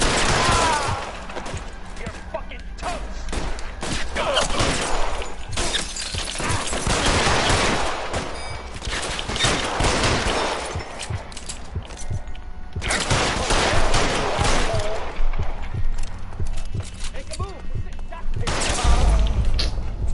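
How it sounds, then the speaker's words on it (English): Bursts of gunfire in a PS4 video game, dense volleys of loud shots in clusters with short pauses between them, and a voice talking over some of the firing. "Somebody shooting at me."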